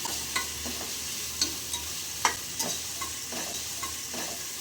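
Onions fry gently in a pan for quick onion rice, a soft continuous sizzle with scattered light stirring scrapes, close and fairly quiet, with no one talking.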